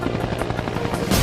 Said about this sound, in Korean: 속도를 줄여 헬기를 강제로 활주 착륙시키면서 지면 마찰에 의해 정지하는 훈련이다